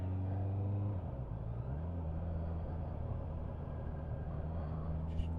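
A 2023 Honda CBR650R rolls downhill in second gear with the throttle off, its engine a steady low rumble under constant wind noise, with a brief drop in pitch early on and no voices.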